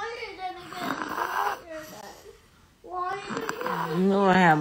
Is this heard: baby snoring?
yes